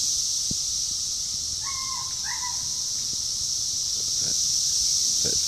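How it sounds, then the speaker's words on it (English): A constant high-pitched buzz of cicadas fills the background, with a couple of brief bird chirps and faint knocks. "Listen to the cicadas."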